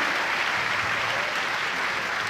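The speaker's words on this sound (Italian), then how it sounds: "Maestro, se si gira io le faccio raccogliere l'applauso del pubblico" Audience applause for the conductor at a memorial concert in Reggio Calabria, Italy: steady, dense crowd clapping that holds at an even level from start to finish, with no voices over it.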